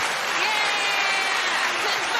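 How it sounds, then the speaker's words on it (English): Canned applause from an applause button: a dense, steady wash of crowd clapping at full volume throughout, with no talking over it. "fight back with the applause button"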